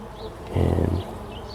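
Close, steady honey bee buzzing at a top-bar hive swells loudly for about half a second, then settles back to a softer background drone.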